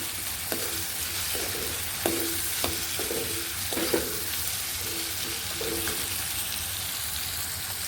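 A village-style Punjabi kadhi masala with red chilli and dried fenugreek (kasuri methi) roasts in a pan, with a steady close sizzle broken by several sharp spatula scrapes and stirring knocks at irregular intervals, no voices.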